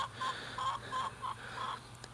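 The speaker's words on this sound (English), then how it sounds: "My chicken's really loud." A homestead chicken clucks in a steady series of short, evenly spaced calls, moderately close over a constant outdoor background hum.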